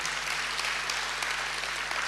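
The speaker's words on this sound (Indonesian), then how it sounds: "tepuk tangannya yang paling meriah" Congregation applause at an Indonesian church sermon, an even, continuous patter of many hands at moderate volume with a faint steady electrical hum underneath.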